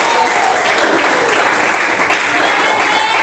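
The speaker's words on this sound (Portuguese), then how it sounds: "Quem bate palmas e dá glória a Deus" A church congregation claps together in dense, sustained applause, loud and close, filling the space evenly with no voices rising above it.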